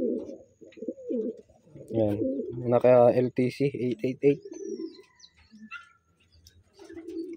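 A ringed pigeon coos in soft throaty bursts, close by, while someone talks over and around it, with a few faint chirps in the background.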